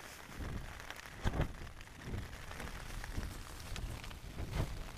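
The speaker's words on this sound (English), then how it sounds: "Beautiful noise of rain on silt nylon" Rain falls on a silnylon tent during a wet, windy wild camp on Coll de Gats, a soft, steady patter with scattered louder drops, faint and close, with no voices.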